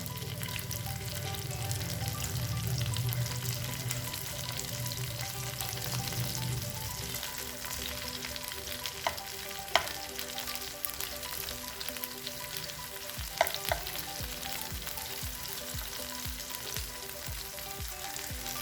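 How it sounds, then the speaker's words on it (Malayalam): Prawns fry in a pan over a low to medium flame with a steady, dense sizzle, and pieces are turned over partway through, bringing brief scraping knocks and a change in the sizzle's tone. "നമുക്കിതൊന്ന് മറിച്ചിട്ട് കൊടുക്കാം."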